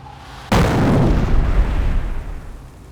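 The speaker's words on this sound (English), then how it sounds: "Order the mortar half-track to fire an incendiary barrage at the enemy infantry squad." Incendiary barrage from a mortar half-track in Company of Heroes, a single sudden loud blast followed by a rumbling, crackling roar that slowly fades.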